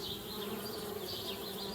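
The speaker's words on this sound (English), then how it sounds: "Darn bees, trying to move into our tree house." Continuous buzzing of bees near a tree house in the PC adventure game Annas Quest, a steady droning hum with wavering pitch, close and alone without speech.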